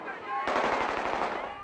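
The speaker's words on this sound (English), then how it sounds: "We had automatic weapons, 50 calibers, tanks going through the street, firing, explosions." Automatic weapon gunfire on a film set for a combat scene, a rapid burst of closely spaced shots starting abruptly after a brief quiet lead-in and continuing loudly to the end, with faint voices underneath.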